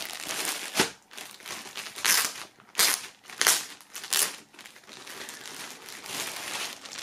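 A shirt is unwrapped from its plastic foil wrapping, making loud, close crinkling and crunching that comes in several strong bursts over a constant rustle, with no talking.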